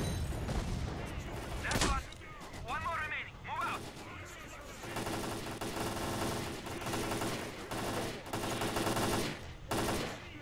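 Bursts of automatic gunfire in S.T.A.L.K.E.R. Clear Sky ring out loud and sustained across the scene, with a sharp crack early on and in-game voices mixed into the firefights.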